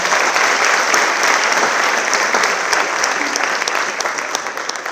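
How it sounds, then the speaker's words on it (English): Sustained audience applause at a student award ceremony, a dense steady wash of many hands clapping close and loud, fading slightly toward the end with no voices over it. "Let's have one more round of applause for Rick"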